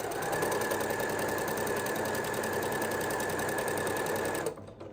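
A sewing machine stitches quilted fabric points for clothing embellishments, its steady, dense mechanical whir running continuously and close before stopping abruptly near the end.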